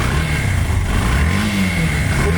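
A red Yamaha Fazer version 2 motorcycle with a fuel-injected engine runs close and loud, revving in a rough, steady roar with small swells in pitch.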